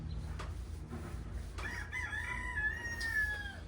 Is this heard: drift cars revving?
no